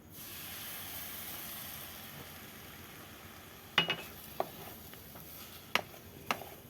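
Water is added to semolina cooking in a pan, producing a close hissing sizzle that fades over a few seconds. Scattered clinks of a utensil against the pan follow, with no talking.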